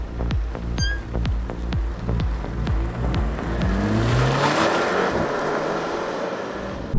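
A mild hybrid base-model car sets off on a test drive: a few sharp clicks come first, then engine and road noise swell and hold loudly, close by, with no talk.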